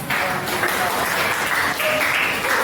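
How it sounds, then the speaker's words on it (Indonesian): A group in a classroom setting claps together in a brief, steady round, with some voices mixed in beneath the clapping. "tepuk tangan dulu untuk kita semua"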